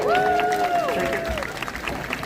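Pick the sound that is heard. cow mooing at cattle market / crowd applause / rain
crowd applause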